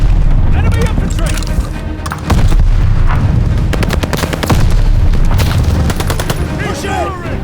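Machine-gun bursts crackle through a Call of Duty Vanguard World War II firefight, rapid repeated shots layered with booms and battle noise, loud and close, while voices call out over the din.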